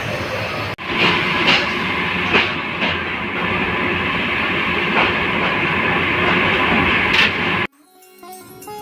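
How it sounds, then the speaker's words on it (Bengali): Teesta Express passenger train pulling out of Jamalpur station in Bangladesh, heard from inside a carriage: a steady loud rumble with rhythmic wheel clatter, which cuts off abruptly near the end. "এই মুহূর্তে আমাদের ট্রেনটি ছেড়ে যাচ্ছে জামালপুর স্টেশন থেকে"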